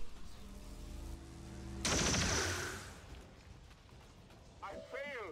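A loud burst of weapon fire with a crackling, echoing tail cuts through steady droning game audio in the sci-fi strategy game XCOM 2, then fades into a low rumble.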